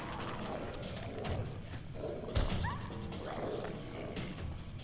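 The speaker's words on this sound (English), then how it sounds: "I can just hear my dog whimpering" Companion dog in the video game Fallout 4 yelping and whimpering amid busy in-game combat noise, the canine cries brief and partly buried under crashes and background clatter.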